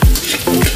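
Garlic sautéed in a hot pan ahead of ginger, a loud close sizzle with a stirring scrape across the pan, very brief.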